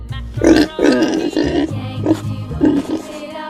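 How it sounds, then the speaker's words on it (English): Close, throaty grunts from a pig come in a rough series of short bursts over light background music. "Pig."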